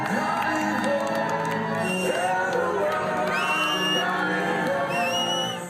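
Crowds lining the streets welcome home freed hostages Danielle and Amelia Aloni with loud, continuous cheering, whooping and shouting, many voices mixed closely together.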